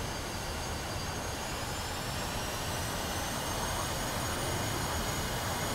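A jet aircraft flown by an AI pilot in a flight-combat video game powers up and taxis toward the runway at Mozdok. Its engine gives a loud, continuous whine and roar that holds steady throughout, with no talk.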